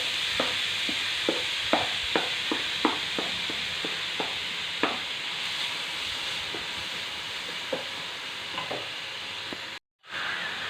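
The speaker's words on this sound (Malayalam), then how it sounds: "അപ്പോൾ നമ്മുടെ എണ്ണ ചൂടായിട്ടുണ്ട്. നമുക്കപ്പോൾ സവാളയും ഇട്ട് കൊടുക്കാം." Onions frying in hot oil in a pan, a steady close sizzling hiss broken by small pops and stirring clicks, alone with no talk.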